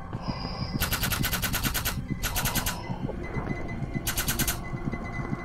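Three sharp bursts of rapid automatic fire from the player's gun in an SCP survival game, each a tight run of quick shots, loud and close over a steady low rumbling background with no talking.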